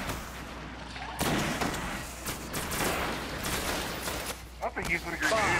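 Grenade blast and gunfire in the video game Destiny on PS3, loud booming bursts and rattling shots over continuous game noise, with a player talking over the action.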